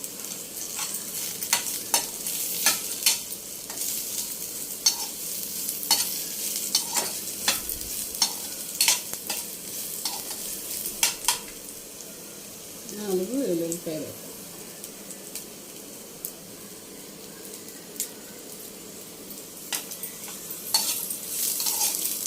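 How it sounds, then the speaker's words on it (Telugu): Five garlic cloves fry in oil alongside tamarind and pieces of veldt grape stem for a pounded chutney, a continuous close sizzle broken by frequent sharp spatters and stirring scrapes, with a voice talking at times over the cooking. "ఎల్లుల్లిపాయ రొబ్బలు ఐదు సో ఇవి ఇలాగా ఫ్రై చేసుకోవాలి ఆయిల్లో"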